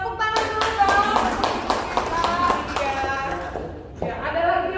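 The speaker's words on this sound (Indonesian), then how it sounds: "Tepuk tangan dulu dong." A group of teachers at an Indonesian school workshop claps hands together in a quick, uneven patter lasting several seconds, with voices talking over and around the clapping.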